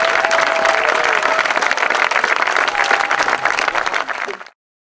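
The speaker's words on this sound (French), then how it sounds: "Vous pouvez l'applaudir." Audience applause at a CMCAS Languedoc celebration honouring the orchestra conductor, a dense, steady clapping from a large crowd that holds for about four seconds and then stops abruptly.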